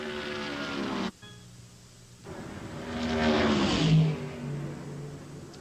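Stock cars in the 1979 Busch Clash NASCAR race roar around the track, engines droning loud with a brief drop in level before a rising, pitch-sliding pass as cars sweep by.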